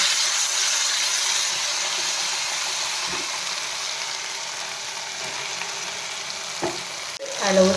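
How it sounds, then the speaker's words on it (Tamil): Karuvadagam fries in hot oil for tempering, a steady close sizzle and crackle from the pan that holds evenly throughout. Near the end a few clinks and scrapes of a utensil come through. "எண்ணெய் ஹீட் ஆகிட்டு கருவடகம் போட்டு தாளிச்சுக்குவோம்"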